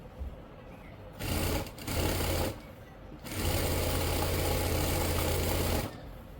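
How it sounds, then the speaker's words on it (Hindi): A sewing machine stitches the ban collar of a kurti. Two short bursts come first, then a longer, steady run of close, whirring stitching that stops near the end, with no talking. "यहाँ से इस तरह से हम पक्की कर लेंगे सिलाई"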